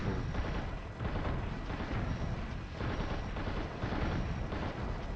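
Heavy booming cannon fire and explosions from a mech in the Xbox simulator Steel Battalion, a continuous loud barrage of rumbling blasts with no voices over it.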